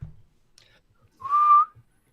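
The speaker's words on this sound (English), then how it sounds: "Whoa, I didn't mean to whistle." A single short whistle blown close into a microphone, a clear steady tone lasting about half a second in an otherwise quiet moment.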